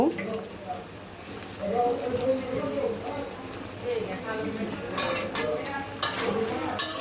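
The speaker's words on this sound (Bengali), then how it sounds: "একটু নাড়াচাড়া করে নিচ্ছি" Fish frying in a pan on a home stove and being stirred, with a steady sizzle and a few scraping, clinking strokes of a utensil toward the end, with a person talking over it.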